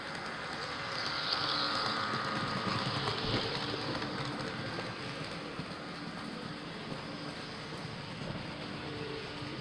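An HO scale model train runs along a layout with a steady, continuous rumbling hum and faint rail clatter that swells slightly early on, then holds at a fairly even level.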